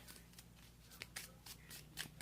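Close, quiet riffle-shuffling of a deck of Pokémon trading cards during a Kyurem legendary deck battle, with a few crisp flicking bursts over a soft background hum.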